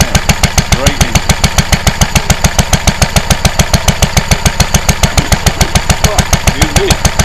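A dusty, dirty Lister D stationary engine, fitted with a radiator and mounted on a cart on a farm, chugs close and loud at a steady, even rhythm of rapid regular firing beats throughout.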